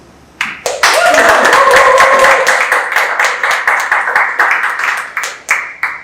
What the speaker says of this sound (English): That round of applause only for Hasan, please.